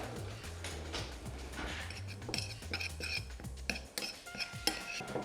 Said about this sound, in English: I'm gonna go ahead and put my za'atar and my sumac. And I'm gonna mix those together.